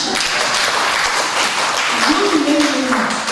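A church congregation claps together during a worship service, brief and steady, with talking mixed in underneath.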